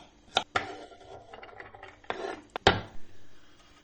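Garlic cloves being halved and chopped with a knife on a cutting board while cooking melocan kavurması, a village-style Turkish dish: a handful of sharp, separate knife thuds at an irregular pace, close and fairly loud, with no talking.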